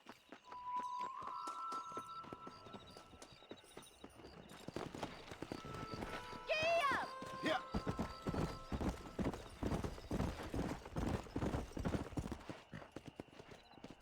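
Horse hooves in Red Dead Redemption: a close, rapid clip-clop that builds into a rhythmic gallop, with a horse whinnying midway and faint voices early on.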